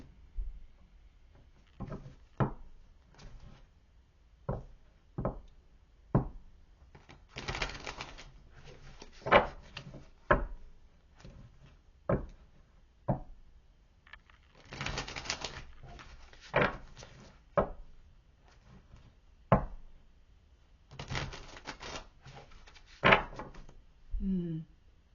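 Tarot cards being shuffled and drawn, with repeated short flicks and snaps of card stock at irregular intervals and several longer riffling bursts, close and clear against a quiet room.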